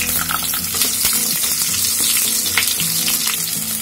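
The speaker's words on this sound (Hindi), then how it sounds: "परवल को चलाते रहेंगे ताकि अच्छे से फ्राई हो जाए।" Pointed gourd (parwal) frying in hot oil, a dense, steady sizzle with crackling spatters, stirred in the pan, loud and close with no talk.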